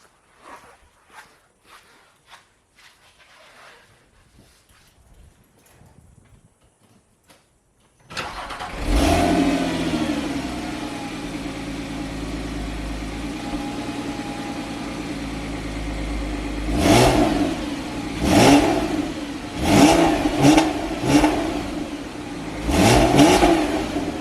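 Porsche 987.2 Cayman with a Top Speed Pro 1 exhaust, cold-started after a few seconds of quiet faint shuffling, then settling into a loud steady idle before several sharp revs of about 2,000 to 3,000 RPM blip up and fall back.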